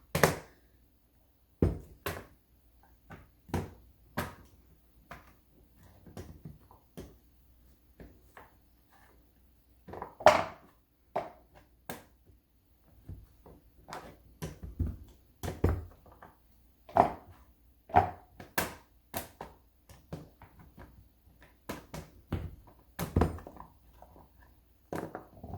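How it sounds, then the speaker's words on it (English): Goat's milk melt-and-pour soap base being cut into chunks with a knife, giving irregular dull thunks and knocks against a board, some in quick pairs, spread across a quiet background. "I'm just cutting them up into smaller chunks, which makes it a lot easier and quicker for them to melt."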